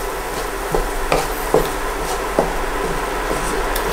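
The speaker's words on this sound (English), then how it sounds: "And stir around, get those onions nicely coated in all those spices." Onions coated in chili powder and garlic granules get stirred in a pan: a spoon or spatula scrapes and knocks against the pan several times at irregular intervals over a soft sizzle.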